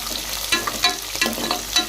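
Green chilies, coriander and mint stirred while frying in a pan for Telangana-style chicken pulao: a loud, close, continuous sizzle broken by regular scraping strokes of the spoon, with no speech.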